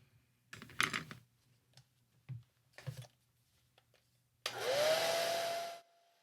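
A few soft taps and clicks come first, then a hair dryer switches on close by to dry a watercolor painting of a winter cabin, blowing a loud steady whoosh with a rising whine for about a second and a half before cutting off.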